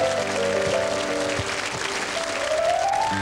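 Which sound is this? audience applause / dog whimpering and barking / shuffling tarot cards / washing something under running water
audience applause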